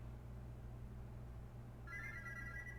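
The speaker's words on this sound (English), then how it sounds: "The morning alarm almost gives you a heart attack." A phone alarm from the video game Parasite in Love starts ringing partway through, a bright repeating electronic ringtone that comes in abruptly over a low steady hum and keeps going to the end.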